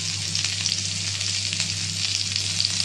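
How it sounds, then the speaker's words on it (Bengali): Potato, pointed gourd and papaya fry in a pan with a steady, close crackling sizzle of oil, small pops scattered through it and a low constant hum underneath. "আলু পটল পেঁপে ভেজে নেব।"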